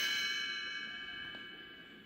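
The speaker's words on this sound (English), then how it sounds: "You will know it is time to turn the page when you hear the chimes ring like this." A page-turn chime from a 1984 Gremlins book-on-record rings as a single bright, sustained metallic tone that slowly fades, heard alone with no speech.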